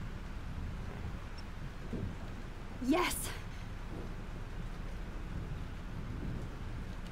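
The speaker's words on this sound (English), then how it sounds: "This storm is real." Thunderstorm in the video game Life is Strange: steady rain hiss throughout with a single sharp thunder crack near the middle, and a voice calls out briefly.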